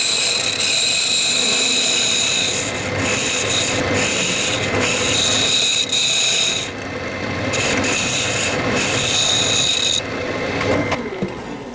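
A wood lathe spins a sapele goblet while a tool thins its walls, giving a continuous close scraping rasp over the machine's hum, with short gaps and changes in tone as the tool lifts and bites again.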